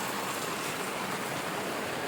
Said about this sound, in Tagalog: Ayan, inulan na naman kami. Lakas ng ulan.